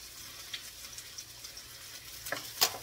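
Garlic frying in a pan gives a faint, steady sizzle, with a couple of sharper clinks and stirring scrapes near the end.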